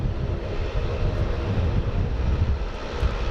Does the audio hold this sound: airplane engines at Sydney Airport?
yes